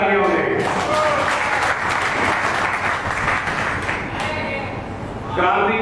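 Loud, dense applause from the crowd at an Aam Aadmi Party worker conference, sustained for several seconds before easing off near the end.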